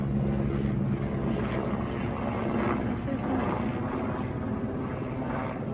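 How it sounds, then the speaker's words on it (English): A helicopter flying overhead at a garden show in Kent, a steady low rumbling drone that carries on evenly for several seconds at a distance, heard under a person talking. "There's a plane going up ahead. Oh, it's a helicopter."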